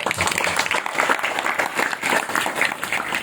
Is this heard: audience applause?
yes